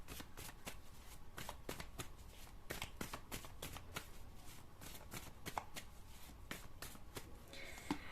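Tarot cards are shuffled up close in a dense, continuous run of crisp riffling flicks and slaps, steady and brisk throughout with no talk over them.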